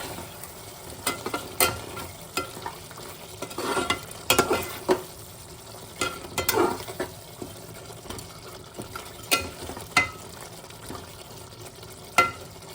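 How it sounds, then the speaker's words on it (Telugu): Mutton curry with chili powder, coriander and cumin powder being stirred in a pot, a steady low sizzle broken by repeated sharp scraping strokes of the spoon every second or so, close and moderately loud, no voices. "ఇప్పుడు ఒకసారి కలుపుకుంటున్నాను"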